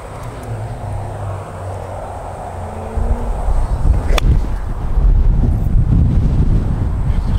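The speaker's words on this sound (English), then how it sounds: "It's too windy, guys." Outdoor wind buffeting the microphone, with low rumbling gusts that grow heavier and louder partway through, alongside a faint steady background tone.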